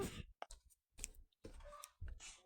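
Scissors snip open a plastic package of Bob Snail toys in a few quiet, crisp cutting clicks with short pauses between them, close by in a calm room.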